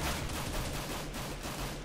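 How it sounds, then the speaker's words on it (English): A silenced USP pistol firing headshots during a Counter-Strike match on the Inferno map makes dense, rapid, noisy bursts of gunfire under constant crackling game noise, loud and continuous throughout. "Squishy Animus getting those headshots with that silenced USP"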